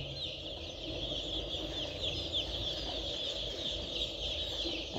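Many chicks cluck and chirp steadily around a feeder on a farm, a busy, continuous chorus of high peeping at moderate volume.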